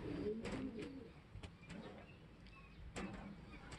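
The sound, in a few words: racing pigeons cooing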